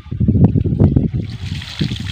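Cold mountain spring water on Camotes Island, Cebu, runs and splashes loudly close by in a short burst, a gurgling trickle with bubbly surges and no voices.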